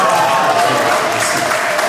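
Applause from a birthday party crowd celebrating a 60th anniversary in Pontault-Combault, a dense steady wash of clapping throughout with voices mixed in.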